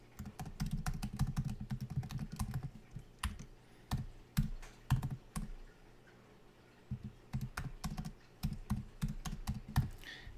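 Rapid typing on a computer keyboard while entering a school Google account and password, with bursts of sharp, close clicking keystrokes, a brief pause midway, then more quick tapping.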